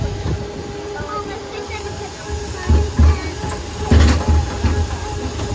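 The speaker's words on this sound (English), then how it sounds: "This train is bumpy." Riding the Coca-Cola Sightseer tram in Wildwood Crest, a steady rolling rumble is broken by several heavy bumps and thuds as the car jolts along, with faint voices nearby.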